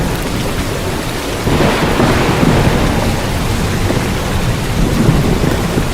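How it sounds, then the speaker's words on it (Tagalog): A thunder and rain sound effect plays in a Filipino radio ad: steady loud rain hiss with a deep rolling thunder swell building partway through, alone with no talk. "Ang lakas ng kidlat at kulob, umulan na."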